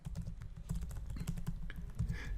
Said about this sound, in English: My typing is not going good